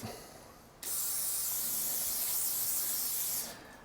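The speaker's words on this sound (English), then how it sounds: "I'm going to degrease the blade. So I've got some good old degreaser here." Degreaser sprayed onto a Damascus steel knife blade, heard as one close, loud hissing blast lasting nearly three seconds, with no talking.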